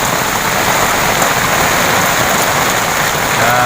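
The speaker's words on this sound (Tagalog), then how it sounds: "malakas talaga ng ulan. Lalaki ng patak." Heavy rain with large drops pours down steadily, a dense loud hiss of drops hitting surfaces with no pauses.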